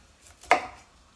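A single crisp knife chop through broccoli on a cutting board, one sharp close thud that fades quickly in a quiet kitchen.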